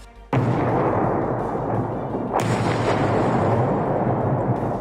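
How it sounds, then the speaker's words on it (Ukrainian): A deep, sustained roar of explosions at an ammunition depot erupts suddenly and rumbles continuously, with a second sharp blast midway swelling the loud, distant-sounding barrage. "Там фіксують масштабні вибухи, напевно, на складі з боєприпасами."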